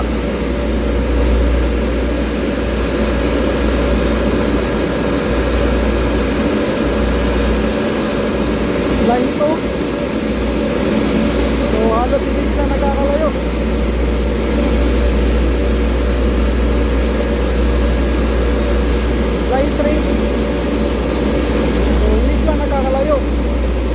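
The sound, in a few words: electric motor running on star-delta connection, boiler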